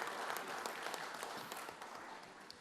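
An audience applauds Megawati Soekarno Putri at a PDIP-Perindo party meeting, a warm, even wash of many hands clapping from start to end, fading slightly toward the close.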